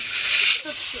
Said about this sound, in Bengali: এখন মাথাটা ভেজে নেব